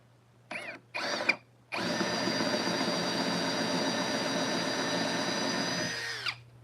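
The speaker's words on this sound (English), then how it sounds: "we're testing the Forstner bits and the Bauer drill right now" An old drill press whines in two short bursts, then runs continuously at a steady pitch for several seconds while boring through wood with a Forstner bit, before winding down.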